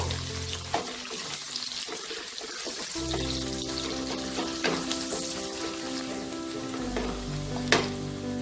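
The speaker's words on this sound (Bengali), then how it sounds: "পেঁয়াজ কুচিটা দিয়েও আমি 1 মিনিটের মতো একটু নাড়াচাড়া করব।" Chopped onion fries in a pan for fried rice, a constant close sizzle broken by intermittent clinks and scrapes of a spatula stirring, with a brief louder clatter near the end.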